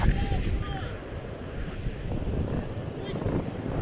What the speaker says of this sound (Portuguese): Aproveitando a praia mesmo nessa ventania, esse mar agitado que tá tendo aqui.